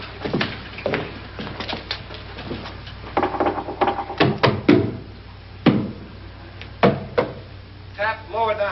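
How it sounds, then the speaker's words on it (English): Knocks on a wall inside a haunted house in a classic film, several sharp raps in uneven bursts with faint background talk and room noise between them. "Now, I'm going to knock on the other wall."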